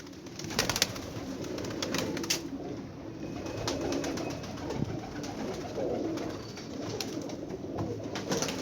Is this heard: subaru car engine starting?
no